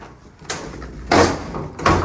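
A door forced open with a 26-inch halligan bar driven through two 2x2 boards: three heavy, close wooden bangs and cracks with a steady rumble underneath, the middle impact loudest.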